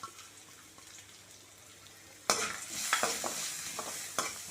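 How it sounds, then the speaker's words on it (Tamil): Ground paste made with curry leaves drops into hot oil and starts sautéing, a quiet lull suddenly giving way to loud sizzling and frying with stirring scrapes and crackles. "இதை வந்து இதில் போட்டு நல்லா வதக்கிடலாம்"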